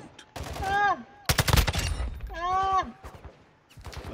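Gunfire in Call of Duty Warzone, a burst of rapid close shots cutting sharply between voiced exclamations, with people talking before and after the shooting.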